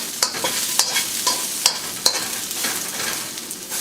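Carrots and onions stir-fry in a wok over high heat, a steady close sizzle broken by sharp, irregular clacks of a utensil scraping and tossing the vegetables, with no voices.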